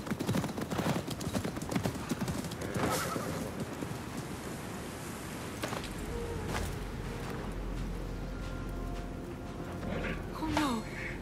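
Horse hooves clip-clop steadily in Assassin's Creed Mirage, close and continuous over a windy outdoor ambience, with a few faint voices and a brief whinny-like sound near the end.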